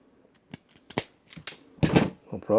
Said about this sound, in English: I'm going to cut a piece off here.